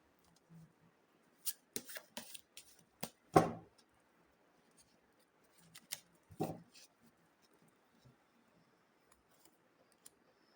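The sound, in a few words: shuffling tarot cards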